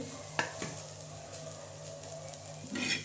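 Grated coconut and garlic masala, for a spicy black chicken curry, roasts in a pan with a steady soft sizzle. A few close scraping stirs break through it, and nobody speaks.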